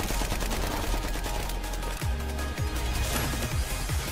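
Turret gunfire from the Genshin Impact video game, a dense continuous barrage with several sharp low booms cutting through in the second half, loud throughout.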